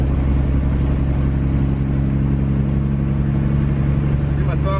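Heavy truck engine with an 18-speed transmission pulling steadily in the next gear after an upshift, a loud constant low drone filling the cab, with a voice talking over it.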